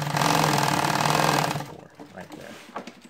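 A sewing machine stitches a fabric pocket for a CQB patrol rig, with a loud, steady, fast-running mechanical drone that cuts off halfway. Quieter handling sounds and a faint voice follow.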